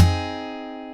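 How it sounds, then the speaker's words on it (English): Acoustic guitar fingerpicking technique: a thumb slap on a bass note with an index-finger flick across the top two strings, struck once with a percussive low thump and then ringing, steadily fading strings. "So you're going to slap with your thumb basically onto the bass notes"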